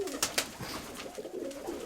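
Pigeons coo softly in a loft, a few low, muffled calls with light fluttering and rustling, fairly faint and close, with no talking.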